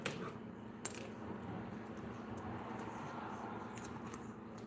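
Scissors snipping wig material, a few crisp close clicks of blades over a faint steady background hum, no talk.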